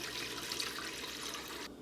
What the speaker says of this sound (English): So now in a pot we're going to add water